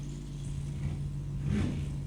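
A 34 Ford Coupe drag racing car idles with a steady low rumble at the strip, giving a brief swell of revs near the end.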